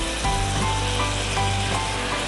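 Chicken pieces and masala fry in about half a cup of coconut oil, a close, steady sizzle that runs through the whole moment with faint scraping of stirring underneath.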